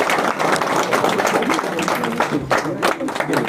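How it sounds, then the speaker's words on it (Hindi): Loud, continuous applause from an audience at a political event welcoming a former minister into the BJP, dense clapping filling the space for a few seconds. "पूरा जोरदार तालियों के साथ"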